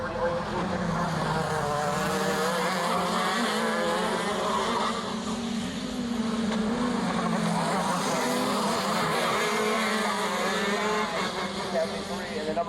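Racing karts at a night kart race at The Mac Track in Portland lap the circuit through a chicane. A dense, buzzing engine drone rises and falls as several karts pass at a distance, with a continuous blend of whining motors.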